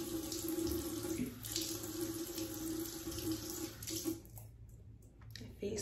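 Water runs from a tap into a sink while a face is wetted, a steady close rush with small splashes that briefly dip and shift near the end.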